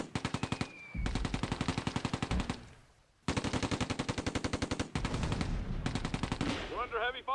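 Heavy machine-gun fire from the World War II strategy game Close Combat: A Bridge Too Far, set in the Schijndel sand dunes, rattles in long rapid bursts with brief pauses between them, ending in scattered sharper shots.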